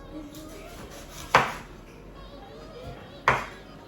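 A knife chopping fish into smaller chunks on a board in a kitchen, two sharp distinct chops about two seconds apart over a quiet room background.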